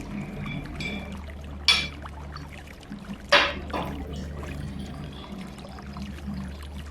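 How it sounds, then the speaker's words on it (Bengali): Water pours into a glass tumbler, faint and soft beneath a steady low room hum, with a couple of brief splashy bursts. "আমি প্রথমে কাঁচের গ্লাসে জল ঢালছি"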